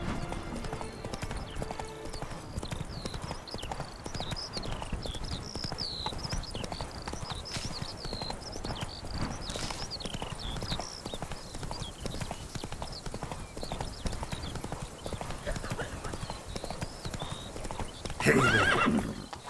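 Horse trotting and neighing in the video game The Witcher 3, steady rhythmic hoof clip-clops throughout with whinnies mixed in and a louder burst near the end.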